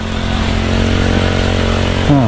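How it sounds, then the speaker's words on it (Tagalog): A grass cutter runs on a farm with a loud, steady two-stroke engine drone close by, its pitch holding even before dipping briefly near the end. "Si RJ isang balik na lang sa grass cutter"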